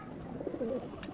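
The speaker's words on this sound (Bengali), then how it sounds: "এর মধ্যে নামতেছে একটা একটা করে কবুতর" Pigeons cooing softly as they land one by one, a low burbling coo rising briefly near the middle amid a steady quiet background.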